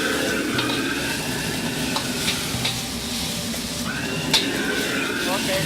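A fresh oyster sizzles in a hot wok as it is quickly stir-fried, a steady dense crackle with scraping stirs and a faint clink, heard close and continuous.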